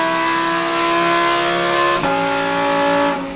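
A car engine fitted with a Remus aftermarket exhaust drones loudly and steadily, its pitch shifting around a sharp change midway before easing off near the end, close and continuous with no talking.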